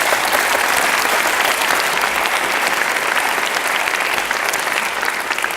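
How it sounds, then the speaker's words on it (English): Lecture audience applauding a speaker at the close of a health talk, a full, continuous roar of clapping from a large crowd, loud and even from start to finish. "Let's give him a big applause."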